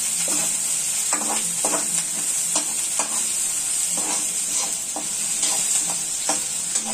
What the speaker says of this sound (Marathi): यामध्ये मी आता कांद्याची पात घालणार आहे. हे मस्तपैकी तेलामध्ये परतून घेणार आहे.